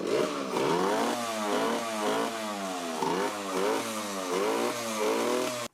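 A 1980 Yamaha GT80 two-stroke mini motorcycle engine runs nearby, its buzzing pitch rising and falling repeatedly as the throttle is blipped in quick, rhythmic revs.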